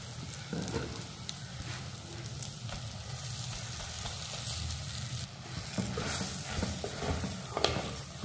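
Garlic millet rice being stirred in a hot pan, a spoon scraping through the grains with soft sizzling and irregular clinks at a steady moderate level, no voices.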